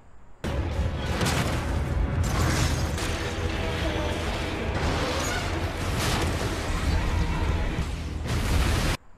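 A long, roaring movie explosion as the Kittanning Citizens Bridge is blown apart, loud and sustained for about eight seconds with repeated heavy booms and crashing debris, then cutting off abruptly.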